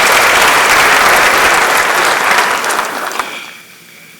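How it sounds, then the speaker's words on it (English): Audience applauding an honoree at a university ceremony, loud sustained clapping that fills the room, then tapers and thins out toward the end. "Shall we appreciate him with a big round of applause?"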